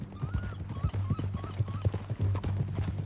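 Steady clip-clop of horse hooves at a walking pace in Red Dead Redemption 2, close and fairly loud, with a low hum and faint voices beneath.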